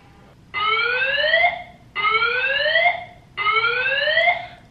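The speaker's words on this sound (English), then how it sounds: "The fire alarm is going off." Apartment building fire alarm sounding loudly nearby in three evenly spaced electronic bursts of rising, whooping tones, each about a second long with short gaps between.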